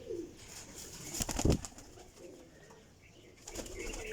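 An old desi-breed pigeon coos faintly amid a quiet loft, with a sharp flutter or knock near the middle and a few soft background stirrings.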